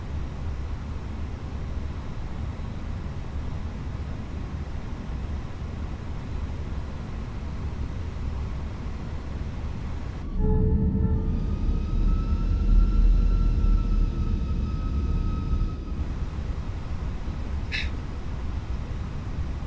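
A Fenix A321 airliner taxiing out of Paris Charles de Gaulle in a flight simulator, a steady low engine rumble and hiss, then a louder stretch of whining tonal engine sound midway, fading back to the even drone, no talking.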